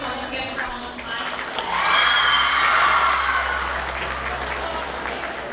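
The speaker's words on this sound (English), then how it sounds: "Put a big round of applause again for Alma's class." An audience applauds and cheers for a high school class at a climate and heat resilience STEM presentation, clapping swelling to a dense peak in the middle and then tapering, with a voice speaking over it.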